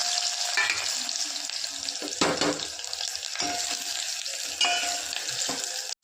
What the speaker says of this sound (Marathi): तेल टाकायचे। त्याच्यामध्ये कांदा टाकायचा।